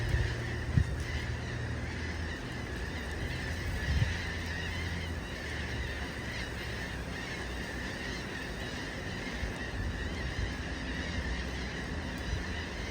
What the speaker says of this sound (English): A flock of birds. Look like rainbirds.